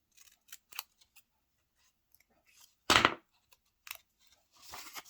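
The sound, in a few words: scissors cutting a triangle out of paper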